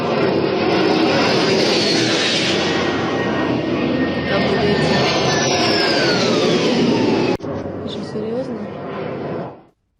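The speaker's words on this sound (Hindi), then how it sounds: "बेहद कम ऊंचाई पर उड़ रहे रूसी ड्रोन का कैसे पीछा किया जा रहा है" A Shahed drone is chased at low altitude by a Ukrainian MiG-29 jet, a loud, steady engine roar with a falling whine that cuts off abruptly, followed by a briefer roar that fades away.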